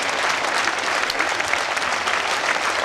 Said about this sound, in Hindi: एक बार जरा इसके लिए ताली बजा दो जोरदार,